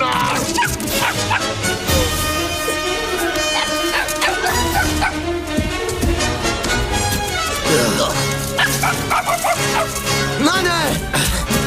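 Puppies barking and yipping over a busy cartoon soundtrack with music, with whimpers mixed in and voices talking throughout.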